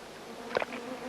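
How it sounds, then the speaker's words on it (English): Wild bees give an angry, quick burst of buzzing, faint and brief, rising over quiet background noise and then fading. "It was then that they too heard the buzzing of wild bees. But this time, it was an angry sound."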